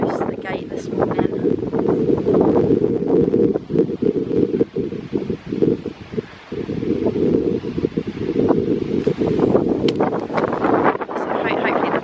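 Wind gusts across the microphone outdoors at a rhino lodge in September, a loud, continuous low rumble with leaves rustling through it and brief lulls.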